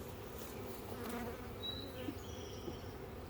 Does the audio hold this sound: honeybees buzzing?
yes